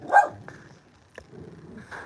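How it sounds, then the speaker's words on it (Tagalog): A dog barks in a short outdoor setting at a barbecue spot, one sharp loud bark at the start followed by a softer bark about two seconds later, with quiet background between. "Ingay naman ang aso na to."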